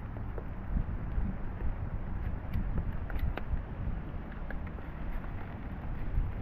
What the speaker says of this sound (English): The wind and the wet.